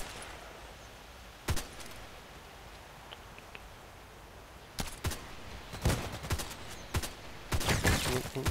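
Gunfire in the online shooter Contract Wars, a few isolated shots early, then clustered bursts of rapid fire growing denser and louder toward the end over a quiet game background.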